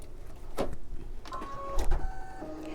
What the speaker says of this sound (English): This is just going to do like the little antlers and just a little bit of stitching.